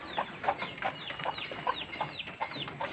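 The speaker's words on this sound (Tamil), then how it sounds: "இது பாருங்கள், கோழி குஞ்சுகள்." Chicks and chickens on a farm peep and cluck in quick repeated bursts, high thin chirps mixed with lower clucks, close and continuous with no talking.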